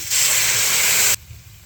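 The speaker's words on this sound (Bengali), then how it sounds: "কফিটা আমার ভাজা হয়ে গেছে, জলটা দিয়ে দিচ্ছি।" Water is poured into a hot pan of fried turnip, setting off a sudden, loud, steady hiss of steam that lasts about a second and then stops sharply.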